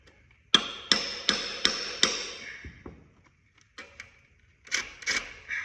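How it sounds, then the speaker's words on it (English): Sharp metallic strikes of a chisel being hammered against an engine in a shop, six evenly spaced ringing blows close up, followed by a pause and a few lighter knocks and taps. "That's exactly where I was hitting with my chisel too"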